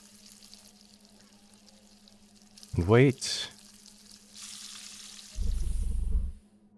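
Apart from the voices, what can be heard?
omelette of eggs sizzling as it fries in a pan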